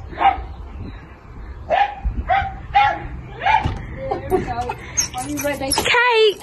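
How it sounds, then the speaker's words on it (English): A dog barks in a series of sharp, separate woofs at a domestic doorstep while people talk nearby, the barks evenly spaced at first and then mixing with the voices. "The dog's barking."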